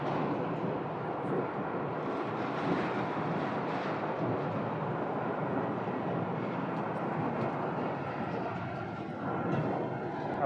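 An American Airlines jet inbound from Charlotte rolls along after landing at Phoenix Sky Harbor, heard as a steady, broad distant roar of engines.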